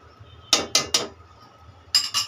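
A spoon stirs a pot of mahalabia, giving three quick metallic clinks and scrapes close by, a pause, then two more clinks.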